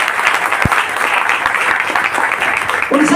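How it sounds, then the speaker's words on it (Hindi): Loud applause from an audience at an RCM business celebration program, a dense, sustained burst of many hands clapping close by, with a few sharper claps standing out. "जोरदार ताली।"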